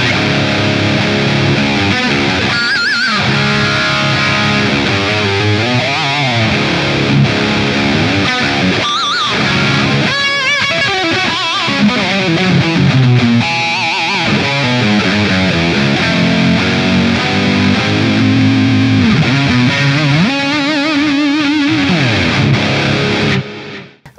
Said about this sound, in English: the 1987 is a distortion and delay pedal